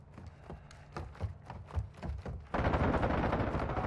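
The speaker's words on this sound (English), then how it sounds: "Who's shooting?" Gunfire in the Modern Warfare 2 beta, a quick run of distinct shots, then a dense, loud stretch of rapid automatic fire.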